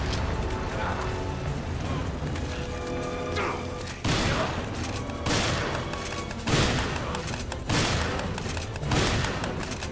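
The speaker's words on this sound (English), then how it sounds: "Shoot him!" Gunfire during the Resident Evil 5 final battle cracks out in several sharp, loud bursts over a busy game soundtrack of rumbling mechanical noise, with voices talking in between.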